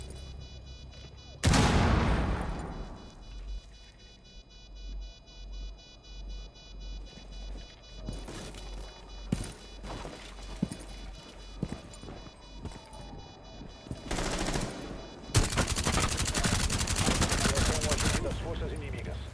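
Automatic weapon sprays in a shooter video game, with several sharp bursts and a long sustained volley near the end amid other in-game noise, loud and close.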